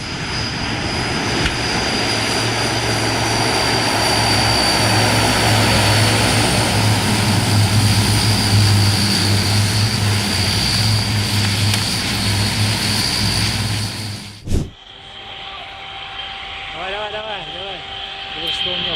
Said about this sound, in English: An Il-18 used by DHL was about to take off, but suddenly stopped just 50 meters from the end of the runway.